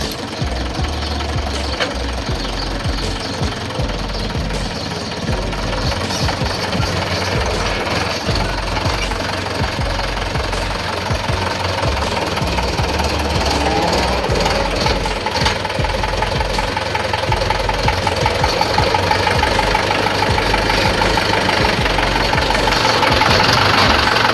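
A diesel tractor engine runs continuously at close range, a loud, rough, rapidly knocking idle with steady vibration that holds throughout.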